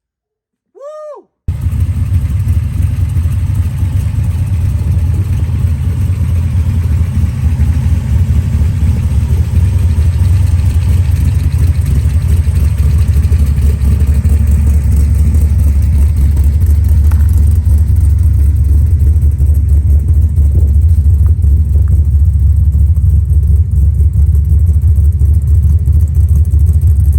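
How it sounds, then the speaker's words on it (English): A 402 big block Chevy V8 fires up for the first time after a short starter crank, then runs steadily at a loud, deep, rumbling idle close by, with slight variations in throb throughout. "So the engine runs, Virginia breathes again, and it made noises"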